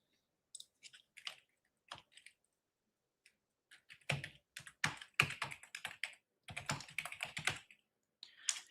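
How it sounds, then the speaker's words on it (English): Quick, forceful keyboard typing in irregular bursts, keys clacking hard and close with short pauses between flurries; no voices. "a little more aggressive typing."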